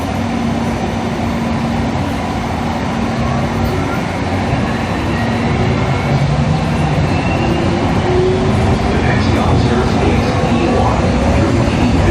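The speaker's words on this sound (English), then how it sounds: "This train is departing" An airport sky train rumbles and hums as it pulls away, a steady loud mechanical drone with faint rising whine tones building over time.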